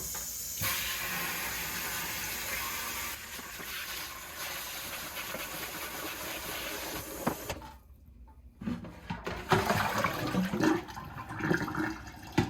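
Hot water blasts out of an Aerogarden Bounty bowl in a loud, continuous hissing gush, cutting out briefly before returning as spattering, gurgling splashes nearby.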